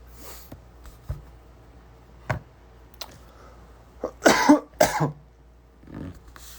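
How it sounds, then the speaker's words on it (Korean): A person coughs several times during a late-night livestream, scattered short bursts with a cluster of louder harsh coughs near the end and some throat clearing between. "이걸 하니까 기침이 나네요."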